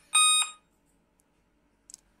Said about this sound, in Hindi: कुछ इस तरह का बीप का साउंड सुनने को मिलेगा